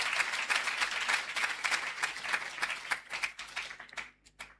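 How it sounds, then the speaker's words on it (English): A crowd at a university college congregation ceremony in Ghana claps heartily, dense applause rolling steadily before thinning into scattered claps and fading out near the end. "let's give her another round of applause"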